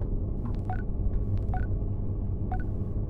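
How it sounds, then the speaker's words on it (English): Spaceship bridge ambience for an audio drama, a steady low droning hum with faint electronic chirps and beeps repeating roughly once a second above it. "So it's kind of a low hum when it decides it wants to play again."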